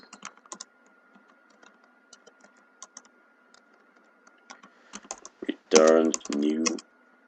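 Keys clatter in quick, irregular bursts as code is typed on a computer keyboard, close and fairly quiet, with a brief stretch of a voice talking near the end.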